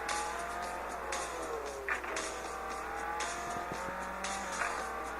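Racing cars in the mobile game Real Racing 3 whine and rev continuously, with engine pitch sweeping up and down through gear changes and brief tire noise, played alone without talk.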